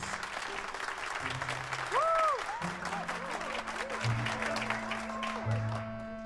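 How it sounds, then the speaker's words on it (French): Steady applause from an audience fills the space, with scattered whoops and some background music tones running underneath. "Dirk, rejoignez-moi qu'on vous applaudisse."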